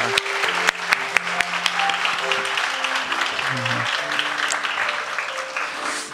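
Church congregation claps in praise during a Korean-language Sunday worship service, sustained applause with sharp individual claps standing out, while background music tones linger beneath.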